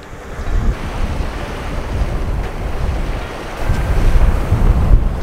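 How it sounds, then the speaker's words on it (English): Strong wind gusting at a lake during a trout fishing trip, a loud continuous rushing roar with wind buffeting the microphone, rising and falling in surges throughout. "All that wind's already picked up."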